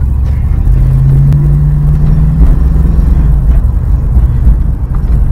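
Petrol truck engine idling and revving close by with a driver's side exhaust leak, a loud, steady low rumble with a brief rising rev partway through.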